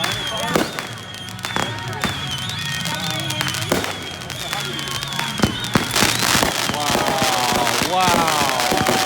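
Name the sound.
backyard fireworks exploding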